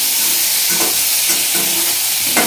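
Ginger and green chili paste sautéed in a pan, a loud close sizzle with rhythmic stirring scrapes repeating about every half second.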